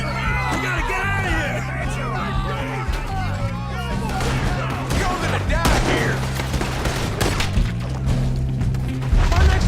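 A chaotic Red Dead Redemption 2 shootout with rapid overlapping gunshots and impacts crackling throughout, mixed with shouting voices and background music.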